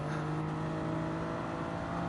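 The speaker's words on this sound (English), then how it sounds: "Can hear the noisy Lamborghini engine behind me" Lamborghini race car engine in Gran Turismo 7 during a Manufacturers Cup race at Daytona, a steady loud drone with a strong tonal hum held throughout, nearby and unbroken.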